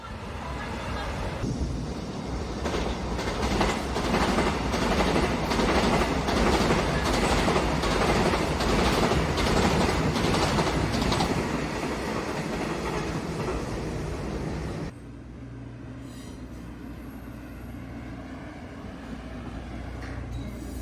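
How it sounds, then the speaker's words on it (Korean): A train rumbles past close by with a loud, steady clatter of wheels on rails, then the noise drops off abruptly to a quieter hum. "기차 소리를 좋아하신다면 입구 쪽에 있는 이곳에 앉아서 감상해 보시는 것도 좋습니다"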